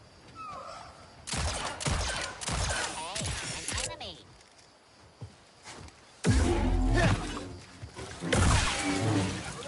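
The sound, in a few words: gunfire from video game Star Wars Jedi Survivor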